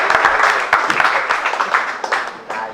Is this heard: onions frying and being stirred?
no